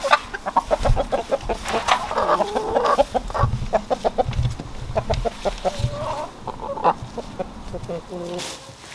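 Broody hen clucking on a farm, a steady run of short repeated clucks with a few higher squawky calls, close by and fairly loud throughout.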